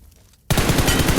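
Groza rifle fire in a battle-royale video game: after a brief quiet moment, a loud, close burst of rapid automatic shots hammers out in a fast, even rhythm.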